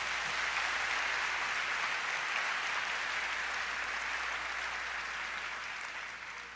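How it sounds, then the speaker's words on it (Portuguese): A church congregation claps loudly and steadily for about six seconds in a dense, even wash that fades slightly at the end, with no voices over it. "Dê um aplauso bem forte a Ele."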